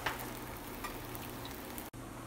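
Cauliflower paneer paratha cooking in oil in a pan over a high flame, a steady, close, continuous sizzle with faint crackles throughout and no talking.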